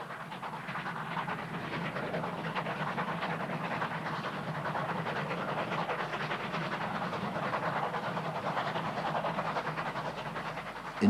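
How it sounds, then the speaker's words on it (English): A train diverted onto the Monte Vista Loop line toward Bellville near Cape Town rumbles steadily with a faint clickety-clack, a moderately distant, even rolling noise that holds throughout. "the train is diverted to Belleville via the Monte Vista Loop line"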